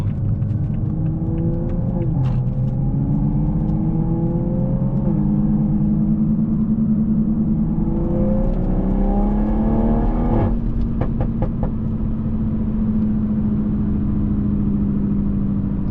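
A 500 hp Toyota Supra accelerates hard through the gears, its engine note climbing steadily and dropping at each upshift, loud and close from inside the car with a constant road rumble beneath and no talking.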